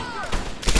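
German soldiers fire at close range in Medal of Honor: Airborne, with a loud rapid burst of gunfire cracking out in under a second.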